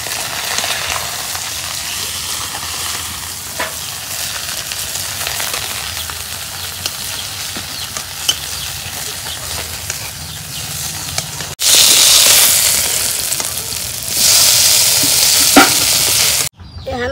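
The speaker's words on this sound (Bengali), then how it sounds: "মাছ ভাজা হচ্ছে, মাছ নামিয়ে নেব" Fish sizzles in a frying pan, a steady close hiss with occasional stirring scrapes, growing louder and brighter near the end.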